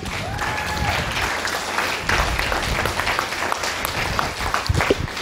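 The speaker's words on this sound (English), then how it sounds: "Let's give Matt Ashford a round of applause" An audience at a Facebook marketing summit applauds a speaker coming to the stage, sustained moderately loud clapping from a roomful of people, with a few sharper nearby claps toward the end.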